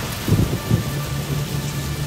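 Heavy rain falling in a steady dense hiss, with low rolls of thunder rumbling underneath in a couple of short swells, sustained and fairly loud, no voices.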